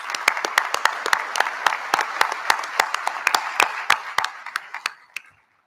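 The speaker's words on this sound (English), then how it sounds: "I think that deserves a round of applause." Audience at the 2023 Delaware Military Academy commencement claps in sharp, distinct rhythmic hand claps that taper off and stop near the end, with no talk over them.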